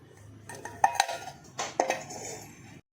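Coarse wheat flour and semolina being mixed by hand in a metal vessel, several close clinks and scrapes in two bursts with quiet gaps between.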